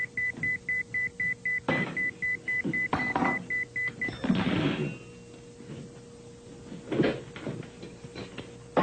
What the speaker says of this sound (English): Whenever I'm happy, close to having a good time, I hear beep, beep, beep.